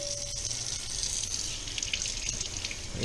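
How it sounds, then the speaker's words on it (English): Tap water runs into a sink over cleaned walleye fillets during a final rinse, a steady close hiss and patter of flowing water with no talking. "I've cleaned all this walleye up nice, rinsing everything off one more time"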